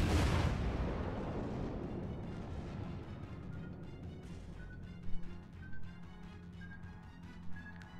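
Naval artillery in the video game World of Warships fires as a huge booming salvo, then a long rumbling decay, followed by faint distant impacts and game tones.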